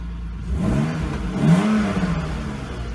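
A BMW 2.5 litre straight six in a drift build car revs up and eases back down, a close, fairly loud rising and falling engine note with a steady underlying hum.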